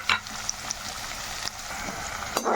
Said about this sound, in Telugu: ఆయిల్ అయితే వేడెక్కిందంటే ఇప్పుడు ఒక మీడియం సైజు ఉల్లిపాయ కట్ చేసుకుని వేసుకుందామండి